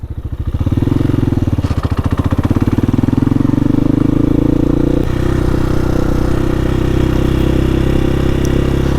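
An air-cooled Honda Hawk 250 motorcycle engine thrums loudly and close while riding, with a pulsing low beat that rises in pitch as it accelerates, drops briefly at a gear change, then settles into steady cruising.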